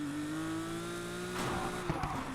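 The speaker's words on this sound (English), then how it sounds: "Oh, listen to that air-cooled flat" Air-cooled flat-six car engine in a racing video game, a steady droning tone holding near and loud, with a brief burst of tire noise toward the end.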